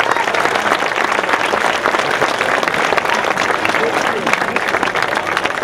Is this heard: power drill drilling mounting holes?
no